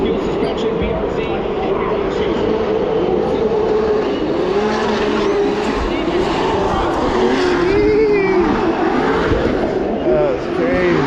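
A Subaru BRZ drift car with Fuel suspension competes at a Formula Drift event, its engine roaring loud and sustained with wavering revs through the transitions, while a commentator talks over it.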